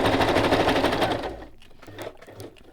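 A sewing machine stitching through collage paper in one fast, loud run of rapid needle clatter for over a second, then stopping into quieter clicks and handling sounds.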